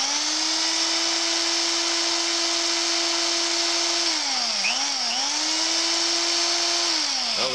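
A vintage Ram 3/8-inch electric drill made in Chicago runs steadily with a loud, constant motor whine close by, briefly dipping in speed twice near the end before winding down.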